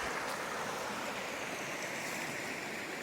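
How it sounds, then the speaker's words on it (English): Steady, rushing flow of creek water outdoors, heard on a morning backpacking trip; a continuous broadband wash holds the same loudness throughout with no breaks and no voices. "Down at the creek, enjoying this beautiful area."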